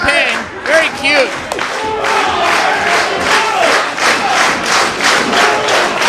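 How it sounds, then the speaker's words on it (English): A wrestling crowd at the Orpheum cheers and shouts loudly, a dense roar of many voices swelling in waves with yells rising above it. "Crowd is jazzed"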